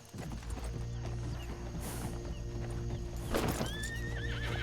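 A horse in a RedM roleplay game gallops with rapid close hoofbeats, then gives a loud neigh near the end, over a low steady hum.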